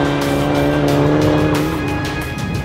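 A race car skids off the track into gravel, its loud, close engine droning steadily with a tire squeal and scraping over the roar, and no talking.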